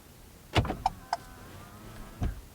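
A Ford Focus Active locks remotely through a smartphone, giving a soft mechanical clunk followed by a few short chirps, faint and close in a quiet space.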